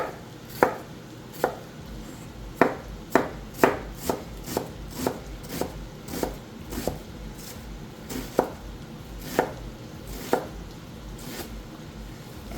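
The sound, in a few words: chopping onion on a cutting board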